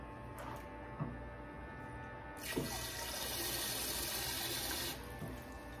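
Water running from a tap while washing hair, faint and hissing with a couple of small knocks before the flow swells steadily for a few seconds and then eases off.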